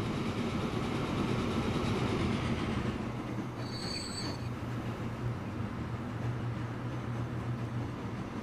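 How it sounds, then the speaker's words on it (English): In Transport Fever, a train runs along the track with a loud, continuous rumble and a short high wheel squeal partway through. "Bam, I'm a longer train now."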